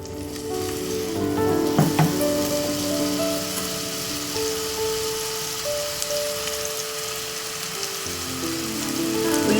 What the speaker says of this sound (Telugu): ఉల్లిపాయతో పాటు అల్లం వెల్లుల్లి కూడా వేసుకుని దాన్ని వేగుతుంటే చాలా బాగుంటుంది